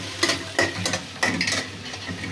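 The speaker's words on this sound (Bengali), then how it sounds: "লাল করে ভাজা ভাজা করছি" Chicken pieces browning in a hot pan for murgi bhuna, with a spoon or spatula stirring in several scraping strokes over a steady sizzle, close and fairly loud with no talk.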